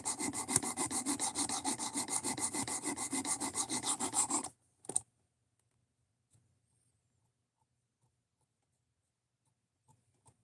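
A knife blade being sharpened while a burr forms: rapid, rhythmic rasping strokes, close and even, for about four seconds, then one short scrape and near silence with a few faint ticks.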